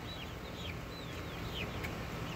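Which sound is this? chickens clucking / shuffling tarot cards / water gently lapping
chickens clucking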